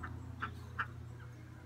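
Ducks heard during an outdoor walk: three or four faint, short quacks or calls spaced about evenly over a low, steady background hum, somewhat distant.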